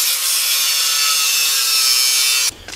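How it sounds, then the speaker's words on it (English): Electric welding of a steel bracket onto a car seat bar in a garage, a loud, steady, continuous crackling hiss up close that cuts off abruptly near the end. "I'll just weld this to the bar."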